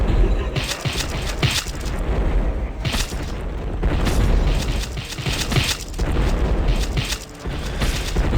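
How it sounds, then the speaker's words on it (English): Cannons firing in the Epic War 2 game: repeated deep booms and bursts come in irregular succession over a dense, loud battle din. "Let's see if the cannons work, man."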